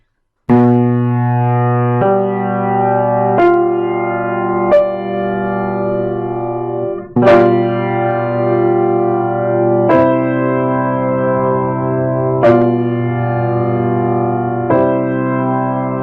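A four-part dominant seventh chord (sol, ti, re, fa) built up note by note from the bass, each entry adding a voice over held notes, rich and loud with no speech.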